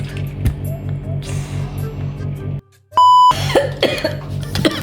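A single sharp cough stands out against steady low background hum, followed by a brief electronic beep and some clattering noises.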